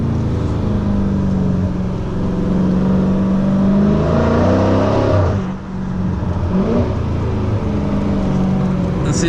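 A Dodge Challenger engine drones steadily on a canyon road, the pitch rising and falling as it revs through a lower gear with a little tire spin, heard loud and close from inside the car.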